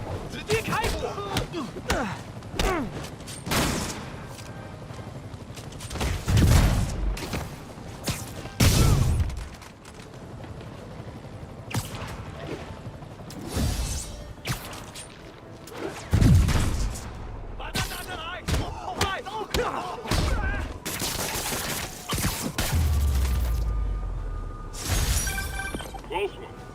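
Gunfire and shattering impacts in a Spider-Man video game fight against snipers: repeated loud bursts of shots and crashes spread across the stretch, with game dialogue and effects mixed in.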